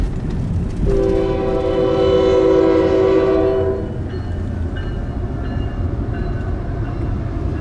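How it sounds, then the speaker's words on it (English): A CSX freight train rumbles past steadily in Stanley, North Carolina, while its horn sounds one long blast, followed by fainter, higher tones over the continuing roll of the wheels. "observe the beautiful CSX train on its way through Stanley, North Carolina"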